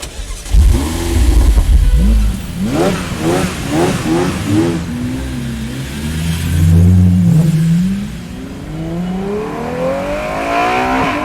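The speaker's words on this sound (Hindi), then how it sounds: "ये सुनकर कबीर ने तुरंत खुद को संभाला और गाड़ी स्टार्ट कर दी।" A car engine catches with a burst, then revs up and down through several rising pulls before accelerating away with a climbing whine, loud and close throughout.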